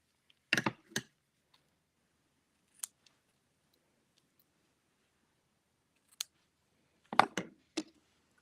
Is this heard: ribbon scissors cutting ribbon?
yes